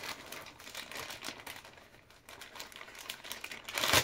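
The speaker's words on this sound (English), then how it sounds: "I haven't opened the bag beforehand, which I should have done, so you'll have to excuse the crinkling" A plastic bag is opened by hand, giving continuous close crinkling and rustling with brief louder crackles and a final sharp burst, with no talk.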